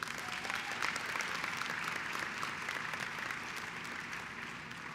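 An audience at a student academic excellence awards ceremony claps continuously, a dense and even wash of applause heard from a distance that holds steady throughout.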